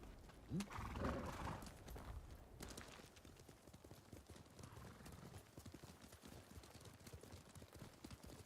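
A horse clip-clops steadily in the video game Ghost of Tsushima, hooves thudding in a quick, even rhythm at moderate distance, with a short whinny near the start over background game ambience.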